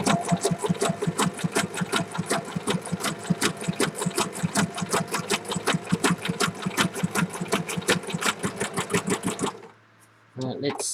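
Sewing machine running a wide zigzag stitch, a fast, even, rhythmic clatter close up that runs for several seconds before stopping abruptly near the end.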